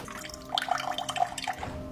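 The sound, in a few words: cold water running from kitchen tap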